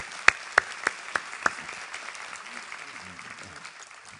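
A church congregation applauds to welcome the pastor, opening with a few sharp, distinct claps that quickly fade into softer scattered clapping in a quiet hall.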